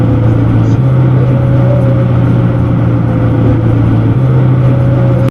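A played-back recording of an engine running through changing RPM, a loud steady drone with a prominent constant tone that holds its pitch throughout, ending abruptly.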